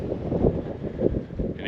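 Low, rumbling wind buffets steadily against the microphone at a campsite among dunes, a continuous blustery noise with no voices.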